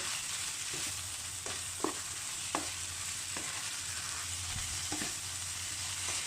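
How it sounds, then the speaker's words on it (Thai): Glass noodles stir-fried with holy basil leaves in a hot pan, a soft continuous sizzle with scattered scraping stir strokes of the spatula, quiet and close, no talking. "จากนั้นใส่ใบกระเพรา ผัดโพสะดุด"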